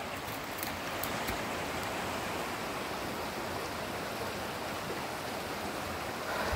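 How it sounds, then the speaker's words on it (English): A river flows steadily nearby in an outdoor natural setting, its broad rushing wash loud and unbroken throughout with no voices. "the river is flowing"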